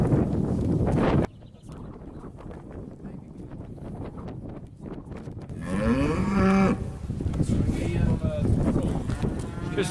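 A cow on a roof moos loudly and close by, a long drawn-out low call rising in pitch, with wind buffeting the microphone and background noise throughout.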